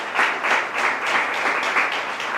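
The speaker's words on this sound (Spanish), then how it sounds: "¿No le puedes dar un fuerte aplauso a ese Rey bendito por los siglos de los siglos?" A church congregation applauds steadily and loudly for the whole stretch, a dense wash of many hands clapping with no voices on top.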